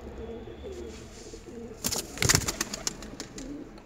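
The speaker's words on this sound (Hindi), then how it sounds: "हमने नए कबूतर खोल दिए हैं कुछ, अब इस बार अच्छे से कबूतर उड़ाएंगे।" Pigeons being released from a rooftop loft, with soft cooing followed by a flurry of wing flaps and fluttering as the birds take off, close and moderately loud.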